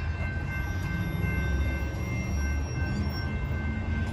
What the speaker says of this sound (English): BNSF incoming, I'm gonna back up a little.